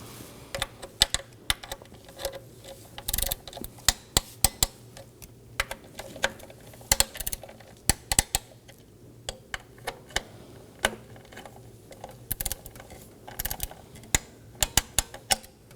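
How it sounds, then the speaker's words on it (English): Ratcheting torque wrench tightening solenoid bracket bolts on a 2015-2023 Nissan Maxima 3.5L V6, with sharp, irregular clicking bursts and pauses repeated over a low, steady background hum. "we're going to torque all 3 of these down to 62 inch-pounds"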